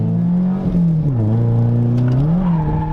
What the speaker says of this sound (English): The car's gonna do its drift as long as you stay on the throttle.